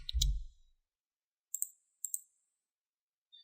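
A computer mouse is used while sorting and filtering a Microsoft Access 2013 query. After a soft thump at the start come two crisp, close double clicks in near silence, followed by a faint final tick.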